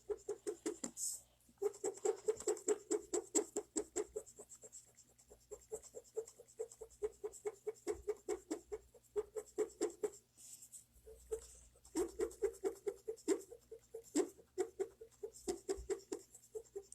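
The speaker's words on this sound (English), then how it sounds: "now let's erase the pencil marks here." An eraser scrubs pencil marks off sketch paper in fast, steady back-and-forth strokes, close and continuous with brief pauses.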